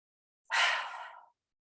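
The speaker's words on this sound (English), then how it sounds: "find your strong exhale and twist to the right" A single strong, breathy exhale, close and soft, lasting under a second during a seated yoga twist, alone in otherwise quiet surroundings.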